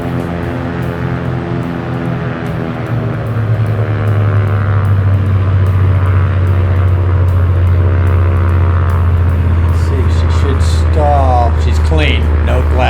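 A Cessna 182Q piston propeller engine drones steadily in a flight simulator, a loud continuous hum that deepens and shifts in tone as power is pulled back for a stall.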